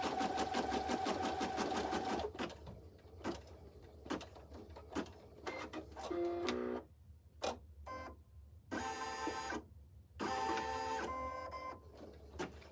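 An embroidery machine stitches a box and an X over elastic on an in-the-hoop notebook cover. It makes a loud mechanical whirring hum, broken into bursts with short pauses and changes in pitch, close to the microphone.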